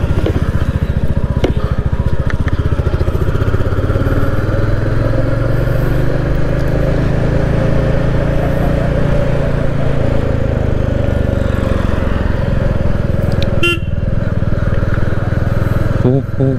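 A Yamaha R15 motorcycle rides along an empty road, its engine holding a loud, steady drone with wind rush close to the microphone throughout.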